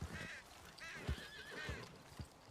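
A horse in a Wild West role-play video game gives several close whinnies over a couple of seconds, with soft hoof clops and thumps between them.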